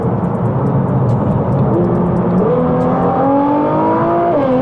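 A Litchfield-tuned 757 bhp R35 Nissan GTR Nismo, track spec, drops a gear and accelerates hard. The engine note climbs steadily, loud and close, with a brief dip at a shift before it rises again.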